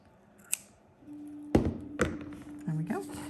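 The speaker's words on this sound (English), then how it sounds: "even sometimes I trim a little bit along here just so that the joint isn't as noticeable" Scissors snip through fabric while trimming a bolster cushion seam, giving a couple of sharp close cuts and light rustling after a brief tap, with a faint steady hum underneath.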